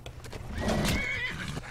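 A horse in the video game Skyrim neighs with a clear, close whinny over roughly a second, set against game combat noise and background ambience.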